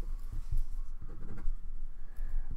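A pen scratches out a math formula by hand at close range, in short irregular strokes and taps.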